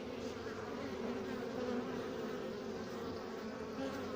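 Honeybees swarm around a hive entrance, a dense continuous buzzing drone that stays steady and close throughout with no voices.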